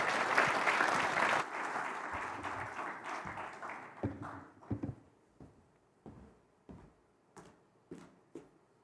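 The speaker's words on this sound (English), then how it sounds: "I think another round of applause would be amazing." Loud applause from a business forum audience fills the room at first, then thins into scattered individual claps that fade out one by one.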